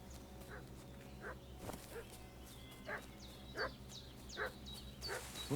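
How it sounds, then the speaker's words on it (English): A dog barks repeatedly in the medieval game Kingdom Come: Deliverance 2, a series of short, yelping barks spaced about a second apart, moderately distant over a low steady background hum. "Cachorro latindo."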